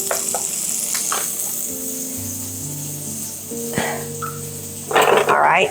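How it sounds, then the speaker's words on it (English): Shallots sizzle and crackle steadily in a pan, with a louder burst of frying noise near the end, while a person speaks over it. "They're sizzling away."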